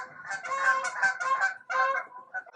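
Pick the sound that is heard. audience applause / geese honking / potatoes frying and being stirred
geese honking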